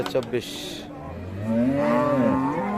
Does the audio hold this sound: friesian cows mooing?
yes